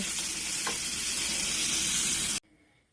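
Pork cracklings frying with shallots in hot fat give a loud, steady, crackling sizzle that fills the whole stretch, then cuts off abruptly near the end, leaving near silence.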